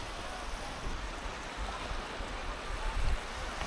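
Ocean waves at Rest Bay, Porthcawl, on a low-tide day with small surf, wash in as a soft continuous roar under light wind, fairly faint and even throughout.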